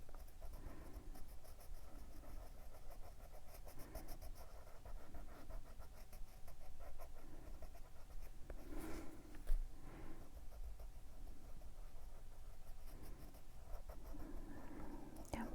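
Colored pencil shading a cute rabbit character drawing on white paper, with soft scratchy strokes repeating in a steady rhythm, close and fairly quiet throughout.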